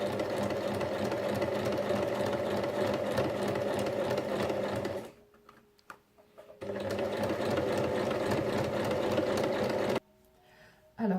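A sewing machine runs in two long, steady stitching bursts through fabric strips, close and loud, with short quiet pauses between the runs.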